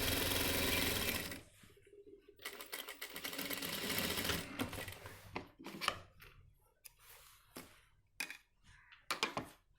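An electric sewing machine stitches coat fabric in a tailoring shop. A long continuous run is followed by a series of short stop-start bursts with quiet gaps between them.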